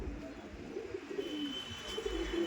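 Madras pigeons coo softly in a low, repeated rhythm, with a quality female pigeon standing close by, the calls steady but faint against a quiet background.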